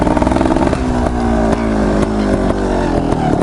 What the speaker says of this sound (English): Okay, gonna do the wheelie, pop the clutch.